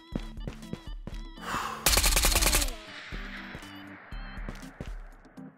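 Gunfire in the extraction shooter VR game Ghost of Tabor: a sharp close burst of automatic shots around the middle, framed by scattered single cracks and footsteps in a quiet setting.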